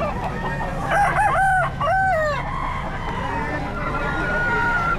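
Roosters at a pet market in Bocaue crow twice in quick succession, loud and close, over a steady background hiss.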